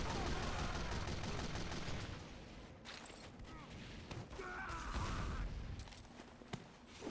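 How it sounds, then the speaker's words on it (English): A slug shotgun fires repeatedly in an online shooter game, its blasts mixed into a dense, continuous wash of loud in-game battle noise. "Give Heavy a slug shotgun."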